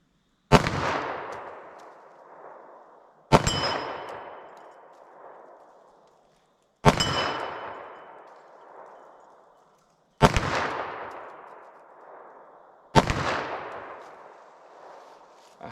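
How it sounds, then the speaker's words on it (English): Five loud 10mm pistol shots fired into ballistic gel, spaced a few seconds apart, each a sharp crack followed by a long decaying outdoor echo, with no talking. "I have a few more rounds to shoot with the 10mm"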